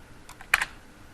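A few soft keyboard taps followed by a single sharper, louder key press, then quiet room tone.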